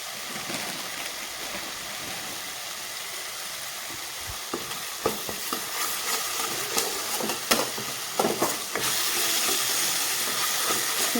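Spiced masala for a bottle gourd kofta curry fries with a constant sizzling hiss and scattered stirring clatter, then water poured into the hot pan sets off a louder, sustained steamy hiss.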